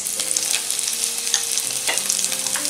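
A spoon each of ginger and garlic crackles in hot oil for mutton kadai, a bright, close sizzle with frequent small pops and scraping stir strokes, with no talking.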